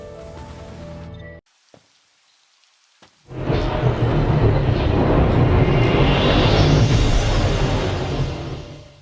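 A thunderstorm in a Final Fantasy XV cutscene: a brief quiet gap, then a crack of thunder opens into a loud, sustained roll with heavy rain pouring throughout, after a short passage of other sound at the start.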